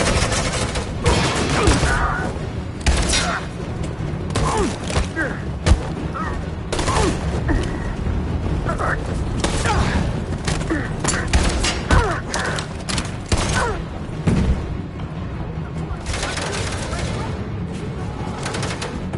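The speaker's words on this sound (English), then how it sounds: "Suppressing fire!" Gunfire in the PS4 game Detroit: Become Human, with dense, overlapping bursts of shots and thuds throughout, mixed with urgent shouting voices.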